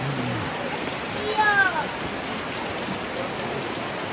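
Steady rain hisses across the whole scene during a funeral gathering at a traditional Toraja tongkonan house, with a brief bird-like chirp and people talking softly nearby.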